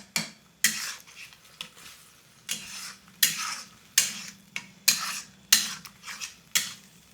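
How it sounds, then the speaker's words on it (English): A spoon breaks up tomatoes in a thick masala paste for aloo gobi, with repeated scraping strokes against the pan over a faint sizzle, roughly one or two strokes per second. "I'm going to use my spoon to break up the tomatoes"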